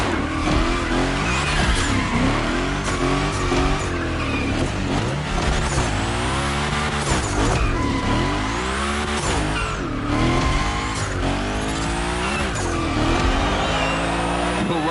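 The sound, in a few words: Hoonicorn car sliding and tire squeal in The Crew Motorfest video game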